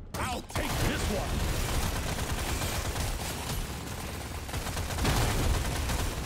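Continuous automatic gunfire from Deep Rock Galactic: Survivor fills the clip, a dense, steady stream of rapid shots layered with mechanical clatter and explosions amid a swarm battle, with no pauses.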